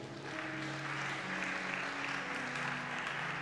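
A church congregation applauds and acclaims Jesus with steady, sustained clapping and cheering that fills the whole stretch, with sung or shouted voices blended into the crowd noise.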